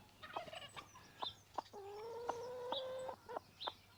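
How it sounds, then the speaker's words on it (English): A broody hen clucks and churrs in short bursts with a longer drawn-out grumbling call in the middle, close by and fairly quiet. "That's a broody hen noise."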